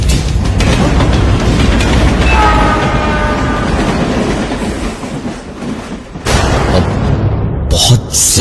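A train rumbles past close by, loud and continuous, with wheels clacking on the rails, a horn sounding for a few seconds partway through and heavy thumps of cars near the end.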